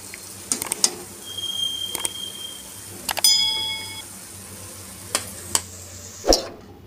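Sweet bondas frying in hot oil, a steady close sizzle punctuated by several sharp metallic clinks of a slotted spoon against the pan, with no talk.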